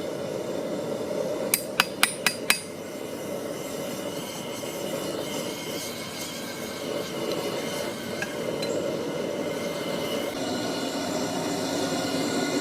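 A hammer strikes hot steel on an anvil while a leaf is forged, four sharp ringing blows in quick succession, then a steady droning rumble with faint scattered clanks.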